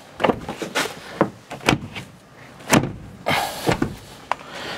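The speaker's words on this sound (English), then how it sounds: "Craig, come open this door." Car door on a 2015 Volkswagen Beetle being worked open: a series of close clunks, knocks and latch rattles spread irregularly, with a longer scraping rustle near the end.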